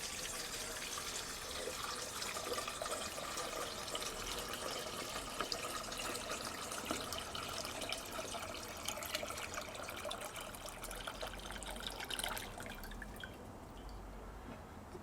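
Three liters of water poured into a stock pot outdoors beside a Solo Stove campfire, a steady close splashing and trickling that runs evenly for most of the stretch before thinning out near the end.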